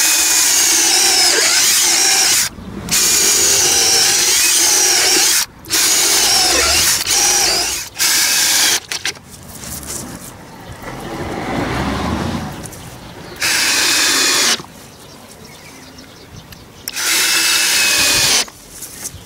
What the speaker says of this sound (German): jetzt suche ich mir die Mitte und bohre drei Löcher.